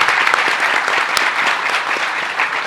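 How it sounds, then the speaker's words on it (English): A conference audience gives a round of applause for an executive AI panel: loud, dense, continuous clapping from a large room with occasional crisp individual claps standing out. "Can we have a round of applause for this panel?"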